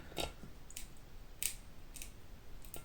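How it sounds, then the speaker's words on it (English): A knife slices food into tiny pieces while preparing fermented mung bean sprouts, making a few faint, sharp cutting clicks at irregular intervals, close and quiet. "And so I just cut it as small as I can, like the littlest, tiniest slices."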